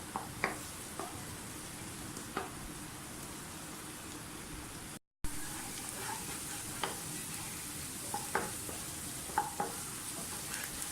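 Onions fry in a pan for qeema kachnar, a continuous sizzle with occasional stirring scrapes and clicks, close and steady, broken by a brief cut to silence midway.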